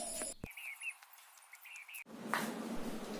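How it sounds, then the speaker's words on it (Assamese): Birds calling outdoors on an early morning, a few faint, scattered chirps over quiet background hiss, with a brief rustle in the middle. "ৰাতিপুৱা চৰাইবোৰৰ মাতবোৰ শুনিলে ইমান যে ভাল লাগে।"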